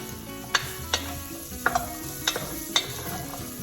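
Beans sautéing in avocado oil in a pan, a steady low sizzle broken by several sharp utensil scrapes and taps as the food is stirred.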